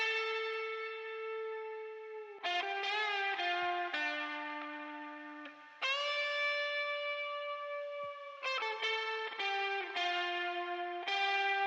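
A distorted electric guitar, using Guitar Rig 6's distorted lead preset, plays a sustained lead line with bends and held notes, heavy effects and echo giving it a thick, singing tone.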